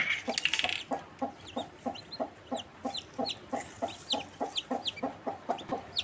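A hen with newly hatched black chicks clucks in a steady, even rhythm of short soft calls, with faint high chick peeps scattered over them and no talking.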